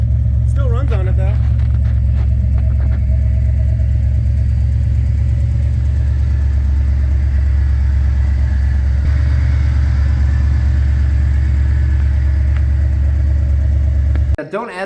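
A 1970 Ford XL V8 engine runs steadily at idle, a loud, close, low rumbling drone that holds throughout, with a brief clatter near the start and a sudden cut at the end.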